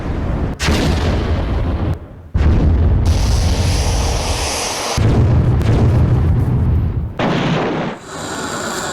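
Explosions from attacks on Ukraine: a series of loud, booming blasts and rumbling bursts, several in succession with short gaps, heavy and close, with no talk.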